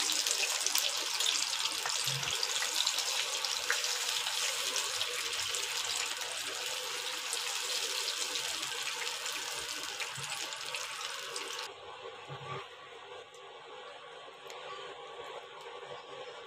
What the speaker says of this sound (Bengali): আর দিয়ে দিচ্ছি জল।